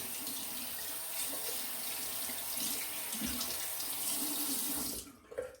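A tap runs steadily into a sink as a razor is rinsed during a head shave, a continuous close splashing stream that stops abruptly near the end, followed by a few small clatters.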